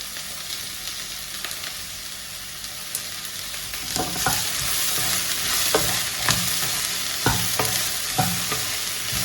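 Okra stir-fry with turmeric powder sizzles steadily in a pan, and a utensil stirs it in repeated scraping clatters that get louder about halfway through, no talking.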